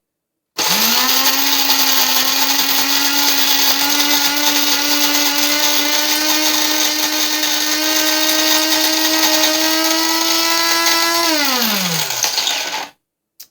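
A Cuisinart DBM8 burr coffee grinder on its finest setting whirs loudly and steadily for about eleven seconds, then winds down with a falling pitch and stops. No talking.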